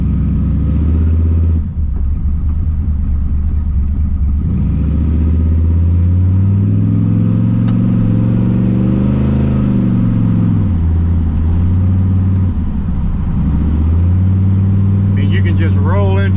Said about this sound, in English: Just roll into the throttle without even downshifting.